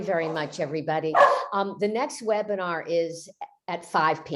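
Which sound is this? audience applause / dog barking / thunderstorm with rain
dog barking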